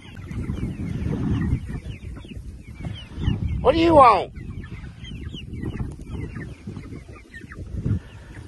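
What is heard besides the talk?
chickens clucking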